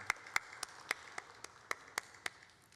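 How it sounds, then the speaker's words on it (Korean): Sparse, distinct hand claps ring out in a church service, about ten sharp claps at a steady rhythm, fairly faint and slightly reverberant, with no talking over them. "우리 샬롬과 함께 하나님께 영광의 박수 올려드리겠습니다"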